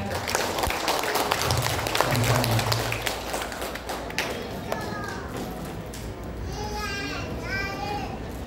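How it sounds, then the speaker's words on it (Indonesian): Applause from parents at a parenting seminar, a loose burst of clapping mixed with children's voices and chatter, thinning out as a few sharp taps and shrill child cries carry on near the end. "Tepuk tangan yang meriah."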